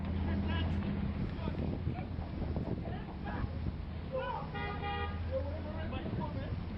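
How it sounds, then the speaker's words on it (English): Car horns honk repeatedly amid busy Toronto street traffic noise, with voices talking over the steady city rumble. "Honk honk."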